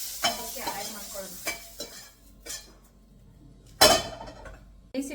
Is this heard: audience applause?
no